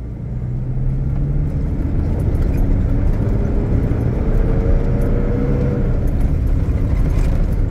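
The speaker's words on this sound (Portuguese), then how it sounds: "vamos acelerar a caminhonete, vamos arrancar ela aqui" An automatic Toyota Hilux pickup launching hard on dirt, a loud, steady engine roar with rising whine as it accelerates, close and continuous with no voices.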